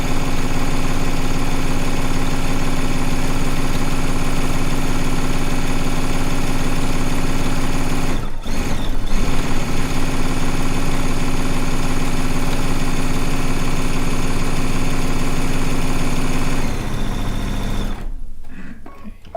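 A sewing machine stitches strip-pieced fabric in a long steady run, its close, loud mechanical whir continuous with a brief pause midway and slowing at the end.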